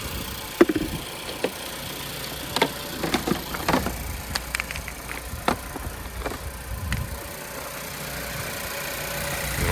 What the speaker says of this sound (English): it sounds like a 4-cylinder.